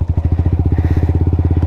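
Motorcycle riding over a rough gravel road on a scenic but dangerous route in Batangas, its engine chugging loud and close with rapid, even rhythmic pulses and rattling jolts throughout.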